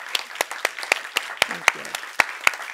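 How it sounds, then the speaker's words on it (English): Scattered, distinct handclaps ring out in a conference hall at a closing session, a sparse and fairly even ripple of applause with a brief voice among them. "can I ask you to give her a big round of applause"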